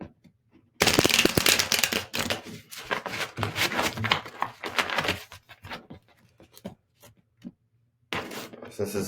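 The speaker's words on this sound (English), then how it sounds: "I'm going to do another shuffle for you" Tarot cards riffle and slap together in quick bursts of shuffling, close and crisp, pausing briefly before another round starts.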